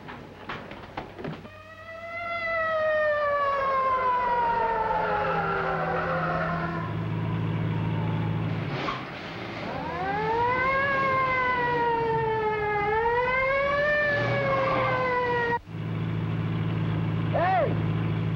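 An ambulance siren wails in repeated rising and falling sweeps over a rumbling car engine, loud and close, with brief voices from people in the car.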